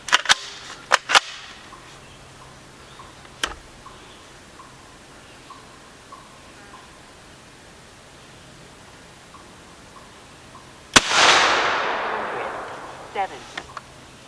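An AEA Megalodon 457 air rifle fires a few sharp, isolated cracks spread across the stretch. One louder report near the end is followed by a lingering hissing decay, and everything sits over quiet outdoor background.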